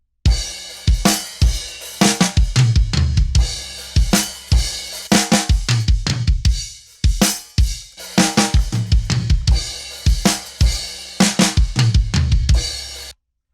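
Drum kit overheads captured with a pair of Rode M5 small condenser microphones in a mix, with loud, close cymbal crashes and drum hits in a driving rock rhythm, a few brief gaps between phrases, and no talking.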